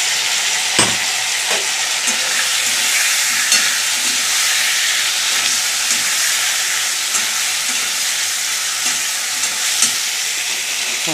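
Onion and tomato paste with ginger paste fries in a pan, giving a loud, dense sizzle with repeated scraping stirs and occasional sharp clinks of the spoon, no speech.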